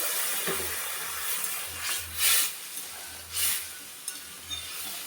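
Water poured into a hot pan of sautéed crab with potato and pumpkin, giving a steady hissing sizzle that swells in a few bursts, with faint stirring and a low rumble beneath.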